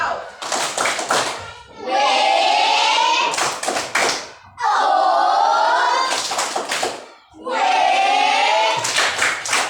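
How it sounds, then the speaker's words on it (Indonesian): Schoolchildren in an Indonesian classroom doing a 'tepuk wow' cheer: bursts of quick, sharp hand claps alternate with loud chanted children's voices in a repeating call-and-clap rhythm. "tepuk wow lagi untuk mereka yang sudah menjawab"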